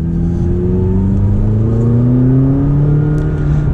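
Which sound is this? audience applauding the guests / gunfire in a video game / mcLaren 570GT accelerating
mcLaren 570GT accelerating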